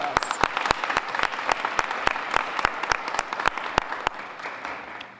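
An audience at a community baby shower press conference claps steadily. Sharp, evenly spaced claps stand out from the softer clapping of the crowd, which eases off toward the end.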